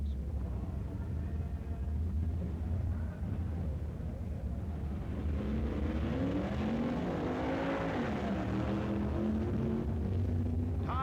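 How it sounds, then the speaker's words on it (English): Drag racing cars from a 1965 meet, including a Plymouth, roar down the quarter mile in a steady, fairly distant engine drone with a rising rev swell partway through, heard alone. "Grove's Plymouth beats Arnie Beswick to the end of the quarter mile"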